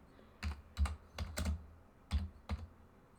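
Typing on a computer keyboard: six or seven quiet, separate key presses in an irregular rhythm, close up and alone.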